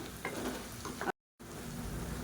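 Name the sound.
coriander leaves being sautéed in a pan for brinjal chutney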